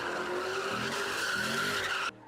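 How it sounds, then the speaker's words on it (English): A loud, sustained tire squeal from a car drifting at a street sideshow wails for about two seconds, then cuts off abruptly. "Drivers drift in figure eights or donuts"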